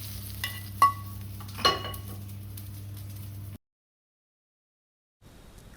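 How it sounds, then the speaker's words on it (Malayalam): Sliced brinjal (eggplant) fries in a pan with a low steady sizzle and a couple of sharp utensil clinks, then falls silent before a faint return of sizzling. "അപ്പോൾ അതാ വഴുതനങ്ങ ഫ്രൈ ഇവിടെ റെഡി ആയിട്ടുണ്ട്"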